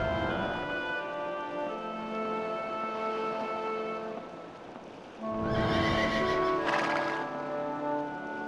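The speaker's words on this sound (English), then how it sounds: "That's Altivo up there, Cortez's war horse." Cortez's war horse in the PS1 game The Road to El Dorado lets out a long, loud whinny over a steady harmonic musical backdrop, a sharper, brighter burst midway; no speech.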